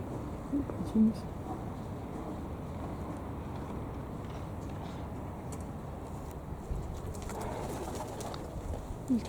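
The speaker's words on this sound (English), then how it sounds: "Pigeons." Pigeons cooing outdoors near a lamppost on a street, soft low coos under ongoing talk and steady background traffic noise.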